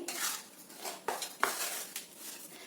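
A spoon scraping and knocking against a pan while jaggery and cardamom are mixed for modak, giving a few sharp clinks and soft scrapes close up with no talking.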